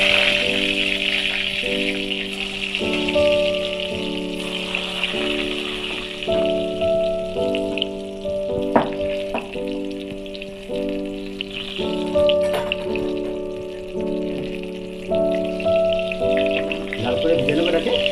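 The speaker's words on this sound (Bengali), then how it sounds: "লাল করে ভেজে নেবো এটাকে।" Eggplant pieces fry in hot oil with a steady, soft sizzling hiss that runs throughout, partly masked by louder background music with sustained tones.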